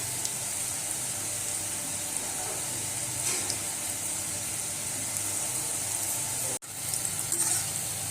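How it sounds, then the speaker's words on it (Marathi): Potato vada fritters fry in hot oil over a low flame, giving a steady, even sizzle and bubbling hiss throughout, broken by one brief dropout near the end. "अशा प्रकारे मी दुसरे वडे पण तळायला ठेवले"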